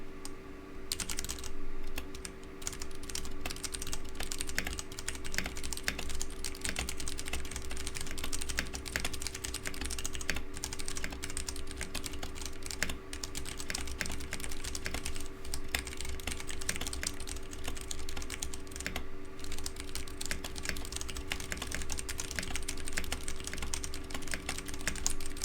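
Typing on a new Ducky mechanical keyboard, a continuous rapid stream of clacky keystrokes heard close up over a steady computer hum, with no talk.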